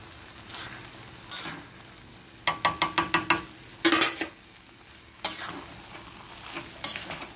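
Muri ghonto stirred in a pan after a spoonful of ghee, with a quiet frying hiss beneath a run of quick metal spatula taps and scrapes against the pan, coming in short bursts close by.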